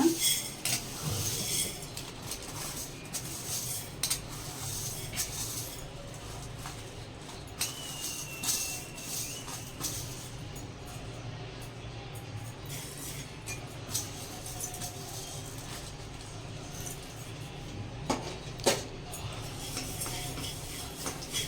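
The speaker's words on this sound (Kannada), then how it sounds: "ಫಸ್ಟು ಧನಿಯಾ ಕಾಳನ್ನು ಹುರ್ಕೊಳ್ಳೋಣ" Coriander seeds dry roasting in a pan while a utensil scrapes and stirs them, light rattling and metallic clinks over a soft background hiss, fairly quiet and close, with occasional sharper knocks.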